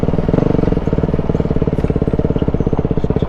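A Kawasaki KLX250 dirt bike engine pulls uphill in second gear, a loud, close, rapidly pulsing single-cylinder drone that holds steady throughout.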